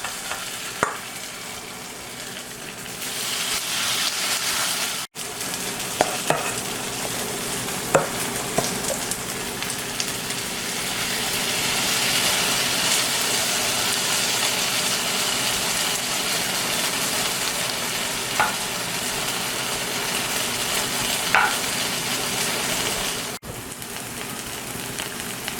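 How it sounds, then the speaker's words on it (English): Sweet potato and zucchini pancakes frying in a pan of oil, a steady loud sizzle with occasional crackles and pops throughout, no voices. "we're just going to take spoonfuls and drop them into the pan and then kind of press them into pancakes"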